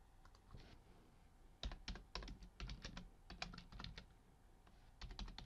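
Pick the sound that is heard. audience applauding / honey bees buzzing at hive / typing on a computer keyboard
typing on a computer keyboard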